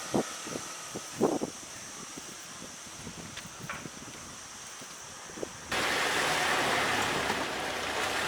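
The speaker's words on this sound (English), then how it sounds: "And this is the river running through there." A river flowing through Porto, Portugal: a quiet outdoor ambience with scattered soft knocks gives way to a loud, steady broadband rush of water that continues to the end.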